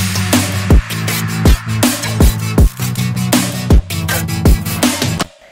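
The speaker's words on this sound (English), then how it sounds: "This is really to give me that kind of scooped metallic-y sound." A gritty, metallic wavetable synth tone with a deep, pitched-down sound, played in repeated rhythmic hits with brief gaps, loud and up front in an electronic pop track.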